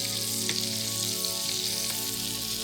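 Pieces of veal neck fry in a hot pan, making a steady, close crackling sizzle with a faint low hum underneath and no voices.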